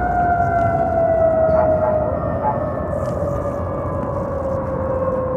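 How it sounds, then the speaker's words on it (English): A loud, sustained Federal fire truck siren wail with a steady descending tone, continuous throughout, close by with low rumbling traffic noise underneath. "Good old federal siren, baby"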